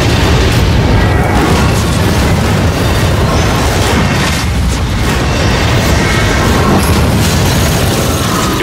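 Loud, continuous barrage of explosions from bombing in a fantasy online battle, with heavy booms and rumbling bursts running densely throughout, no voices.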